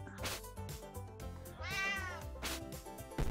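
A cat meows in the virtual reality game Catlateral Damage: a clear, close meow followed by a drawn-out, wavering one over steady game music, with no talking.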